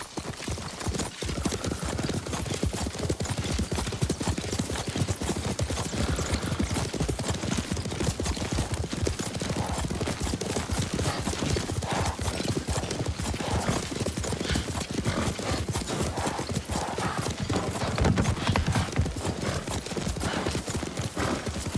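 Horse hooves in the video game Ghost of Tsushima thud in a fast, continuous galloping clip-clop with dense, loud mechanical rattle from riding gear, and no clear talk over it.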